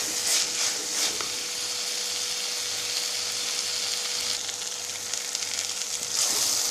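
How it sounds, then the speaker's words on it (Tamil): Masala for chapati paneer masala gravy fries in a pan with a steady, loud sizzle and crackle, heard up close with a faint low hum underneath and no talking. "மசாலாலாம் போட்டு நல்லா ஃப்ரை பண்ணியாச்சு"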